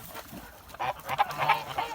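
Kholmogory geese honk on a stream, a few nasal calls overlapping at moderate distance with soft background noise.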